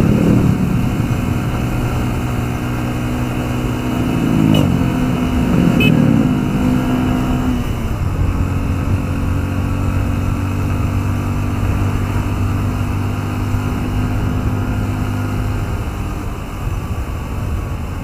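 A 2013 Yamaha Byson motorcycle engine drones steadily, shifting pitch as it climbs and strains up a slight incline, with wind noise rushing over the microphone throughout.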